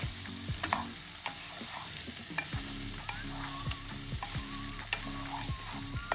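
Pumpkin soup ingredients stirred in butter in a pan, a spoon scraping and clacking in a steady repeated rhythm over a soft continuous sizzle, close and moderately loud with no talking.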